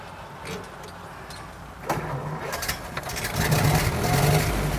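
An old restored car's engine cranking and catching, rising into a rough, building idle close by inside the cabin, with brief voices in the background.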